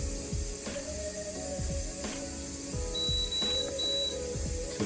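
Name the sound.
pressure cooker timer beeping while being set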